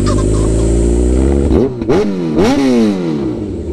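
A Kawasaki Ninja 1000 fitted with an Austin Racing exhaust idles loudly up close, then blips its throttle in two sharp revs that climb and fall before settling back to a steady, rumbling idle.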